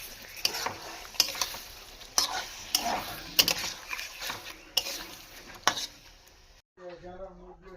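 Spices with dried red chilli, turmeric and salt stirred and frying in a pan, a close, steady sizzle broken by repeated scraping strokes of a spoon, then a brief quiet and a short tonal clatter at the end.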